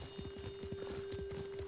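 Rapid rhythmic hoofbeats of a galloping horse in Ghost of Tsushima, steady and moderately quiet, with a faint constant tone humming underneath.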